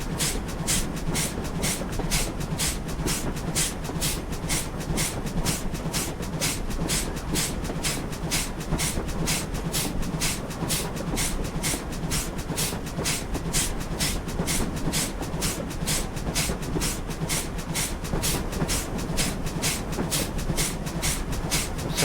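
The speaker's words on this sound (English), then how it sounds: "Some nice rail joint sounds on that as well." Steady, rapid clickety-clack of wheels over rail joints from a GWR 9400 Pannier Tank in the Train Simulator game, a continuous rhythmic clatter over a low running rumble with no talk.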